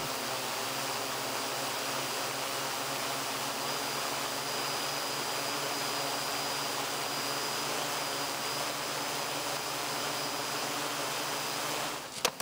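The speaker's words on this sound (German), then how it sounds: "Ich schicke Drohne 2 los. Drohne 2 gestartet, ist unterwegs." A rescue drone taking off and flying during a disaster-response exercise, giving a steady, insect-like buzzing whine that holds unbroken for about twelve seconds, with a brief clatter at the very end.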